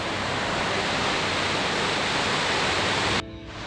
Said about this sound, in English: If I just show you the river, see what I mean in terms of the volume of water we got flowing down it at the moment.